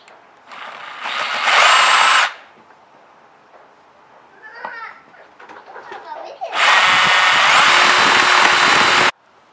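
A power tool tries to cut into a battery in two loud, sustained, high-whining bursts. Between the bursts come quieter scraping and clattering sounds, and a voice speaks briefly.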